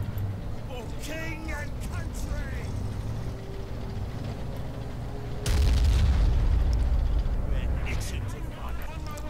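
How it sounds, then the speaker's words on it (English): A grenade blast in the Men of War: Assault Squad 2 strategy game, a single heavy boom arriving midway and rumbling for several seconds beneath ongoing battle noise and a commentator's voice. "They're gonna run away before the grenade goes off"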